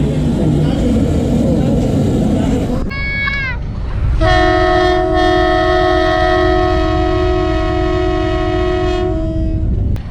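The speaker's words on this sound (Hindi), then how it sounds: "HBU 28034 कराची जाने के लिए 12 डाउन नज़ारा एक्सप्रेस तैयार खड़ी है" At a busy railway station, the Karachi-bound 12 Down Nazara Express sounds a short rising horn and then a long, loud, steady horn blast lasting about five seconds over constant crowd and platform din.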